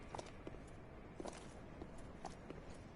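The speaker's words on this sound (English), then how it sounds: "As long as you hear their footsteps, you know they hadn't stopped and taken notice." Armored Pontiff Knights in Dark Souls 3 walking nearby, giving soft, irregular footfalls every half second or so over a steady low ambient rumble, faint and slightly distant.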